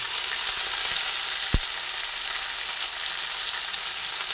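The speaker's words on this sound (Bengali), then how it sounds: "সব একসঙ্গে ভাজা হচ্ছে সবজিগুলো ভাজা হচ্ছে" Steady bright sizzling of winter vegetables, including flat beans and cauliflower, frying in a pan, continuous and close, with one brief clink partway through.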